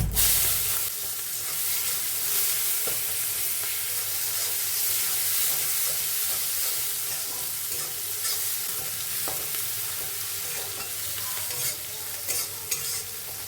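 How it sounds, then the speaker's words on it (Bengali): Onion frying in hot oil with cumin, bay leaf, black cardamom, star anise, cinnamon and cloves for a Bengali goat curry, a loud continuous sizzle with stirring scrapes, close and steady throughout. "পেঁয়াজটা দিয়ে দিচ্ছি।"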